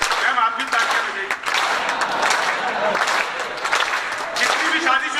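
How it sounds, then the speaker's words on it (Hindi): An audience at a Hindi comedy poetry show claps continuously and fairly loudly, with a dense patter of hands throughout. "मैम आप भी तालियां बजाइए।"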